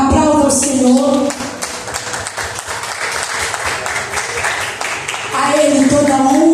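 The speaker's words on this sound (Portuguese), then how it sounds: "Aplauda o Senhor." A church congregation applauds during the last service of the year. Voices sound loudly at the start, giving way to a few seconds of full, close clapping before speech returns near the end.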